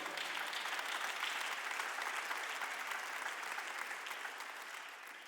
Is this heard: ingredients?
no